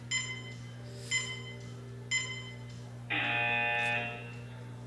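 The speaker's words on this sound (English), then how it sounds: "As we hear the beeps count down" At a world sub-junior and junior equipped powerlifting championship, the countdown clock gives three evenly spaced short electronic beeps and then one longer sustained tone, all clear and steady over a low hum.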